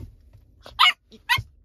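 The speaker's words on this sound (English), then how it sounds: "I'm sitting here arguing with a damn dog." A Yorkshire terrier puppy gives two short, sharp, high yips about half a second apart, close by in a quiet car.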